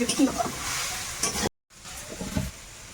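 Small parshe river fish fry in a pan with a steady close sizzle and occasional stirring, broken by a brief silent gap before the frying continues more quietly.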